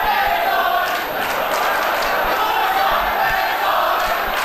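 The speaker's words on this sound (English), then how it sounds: "The fans cheering for their fan favorites right now." Wrestling fans cheer at a hardcore match, a steady, loud crowd roar that fills the whole stretch without pause.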